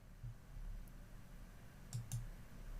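Quiet computer mouse clicks, a faint single click early on, then two crisp clicks close together near the end over a low room hum, no talking.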